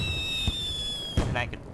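Fireworks burn in the fireplace game Little Inferno, with sharp crackling pops and fizzing bursts rising over a steady high whine and a low hum. Two louder cracks stand out among the sputtering.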